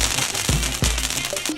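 Firecrackers bursting during a home Diwali celebration: two sharp, loud bangs about a third of a second apart, followed by crackling pops and a brief tonal whine.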